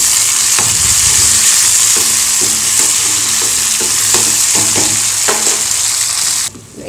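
Onion and tomato sautéing in a hot pan, a steady loud sizzle with repeated scraping and tapping of a stirring spoon against the pan, close up and without speech.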